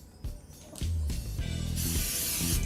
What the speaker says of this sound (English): a little spray of canola oil